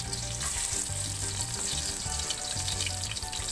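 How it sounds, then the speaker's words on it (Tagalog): Onion, garlic and tomato sauté in a pan, a dense, continuous close-up sizzle under a faint low hum, with no voices. "gigisa lang natin ang sibuyas, bawang, kamatis"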